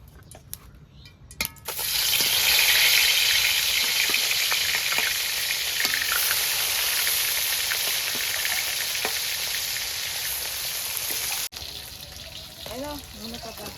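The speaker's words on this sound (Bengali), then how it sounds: "আমার তেল গরম হয়ে গেছে মাছগুলো ভেজে নেব" Loud, steady sizzling of fish frying in hot mustard oil for about ten seconds before it drops off sharply, with faint voices at the start and end.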